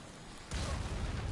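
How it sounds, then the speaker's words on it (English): Explosive barrels blow up in Path of Exile 2, a sudden muffled blast bursting out of quiet ambience and leaving a low, rumbling tail. "Or getting away from the exploding barrels was enough."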